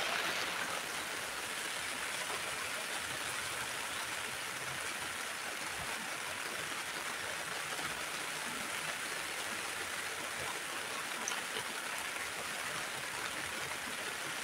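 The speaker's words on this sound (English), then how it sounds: "And it's pouring down rain." Pouring rain outside forms a steady, faint hiss of dense falling water with no talking, unchanging throughout.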